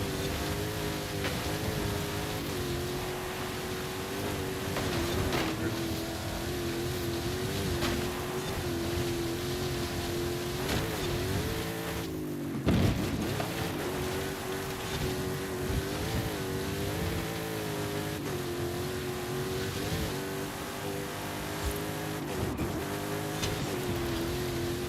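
Car engine droning continuously with shifting revs and tyre noise in the Forza Horizon 5 racing game, loud and steady throughout with a brief dip and spike midway as the car slides.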